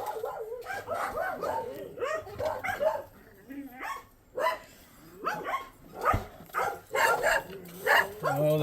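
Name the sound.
dogs barking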